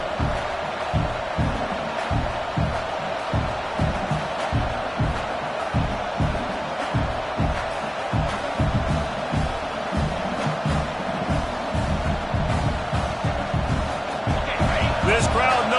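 Loud, steady roar of a football stadium crowd during a big red-zone moment in a game, a continuous wall of noise with rhythmic surges, under a broadcast commentator's talk.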